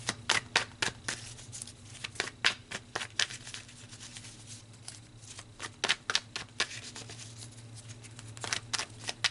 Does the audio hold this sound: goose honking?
no